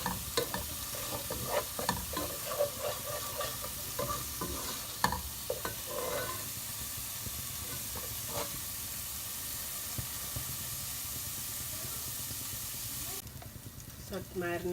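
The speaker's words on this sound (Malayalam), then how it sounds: "ഈ പേസ്റ്റ് ഇട്ടിട്ട് നന്നായി മിക്സായിട്ട് ആ എണ്ണ തെളിഞ്ഞ് വരുന്നവരെ ഒന്ന് നന്നായിട്ടൊന്ന്" Masala paste for Hyderabadi chicken masala sautés in oil in a pan, making a continuous close sizzle broken by repeated scraping strokes of a spoon, before a sudden quieter stretch at the very end.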